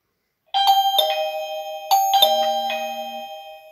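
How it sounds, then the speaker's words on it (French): A J7 Plus wireless smart doorbell chime rings loud and close, a bright multi-tone melody struck twice in quick succession, each note ringing out and overlapping the next. "c'est bien le carillon qui sonne et qui affiche le voyant bleu à chaque appui sur la sonnette"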